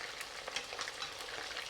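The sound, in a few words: chicken pieces deep frying in oil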